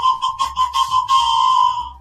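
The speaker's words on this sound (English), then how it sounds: "I need a conductor's hat and my train whistle." A toy train whistle blown in several short hoots, then one longer sustained blast, close and loud with a bright, breathy pitch.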